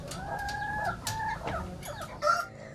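Chickens on a small poultry farm in Tulang Bawang, Lampung, cluck and squawk close by in a steady, busy run of calls, with a sharper, louder call near the end and no talk over it.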